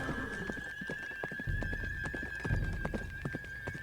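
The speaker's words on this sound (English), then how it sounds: "He kicked the horse and raced down the path." A horse trots steadily along a path, its hooves giving a brisk, even clip-clop close up with a whinny in the mix. A thin, constant high whine runs underneath, and no one speaks.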